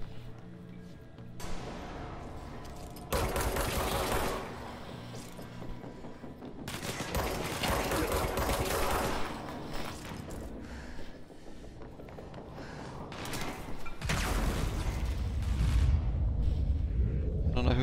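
Bursts of gunfire fill a third-person shooter game, rapid volleys and heavy blasts coming in waves over a steady backdrop, with a voice talking intermittently.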